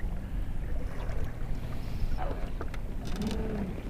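Steady wind rumbling and buffeting outdoors over open water while bass fishing, with faint lapping and a few high creaks, continuous and fairly loud throughout.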